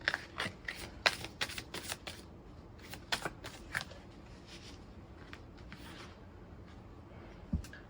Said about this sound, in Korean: 연인관계를 제외한 관계를 위한 조언 카드도 뽑아보도록 하겠습니다